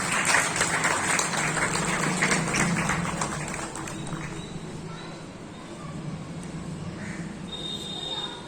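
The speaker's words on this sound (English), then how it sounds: "Please give them all a huge round of applause" Applause at a school Independence Day celebration, a crowd clapping loudly for a few seconds and then thinning into a softer, sustained patter with background murmur.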